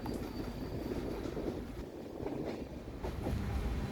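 A passenger train, the 06164 MAJN TVCN Special, running at night as it pulls into Thrissur station, heard from inside as a faint, steady rumble and rattle of wheels and carriage noise with no voices.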